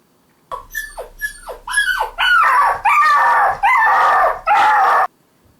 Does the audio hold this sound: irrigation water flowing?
no